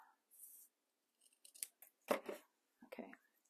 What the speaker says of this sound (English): I'm going to cut this off just a little bit.